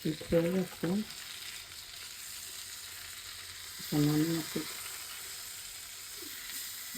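Steady low sizzle of hilsa fish frying in oil, with a couple of brief louder bursts of clatter or crackle near the start and middle.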